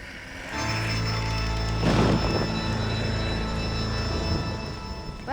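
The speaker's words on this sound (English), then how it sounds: "waiting for the passing of the storm" Steady rain and a low rumbling thunderstorm from Red Dead Redemption: Undead Nightmare, with a brief swell of rolling thunder near the two-second mark and sustained music-like tones underneath, no voices.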